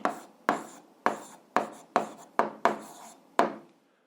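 Pen strokes writing an answer during an eighth-grade algebra exercise: about eight short, distinct scratching strokes in a steady rhythm, close and clear, with no talking.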